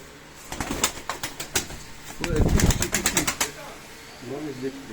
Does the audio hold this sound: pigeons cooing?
yes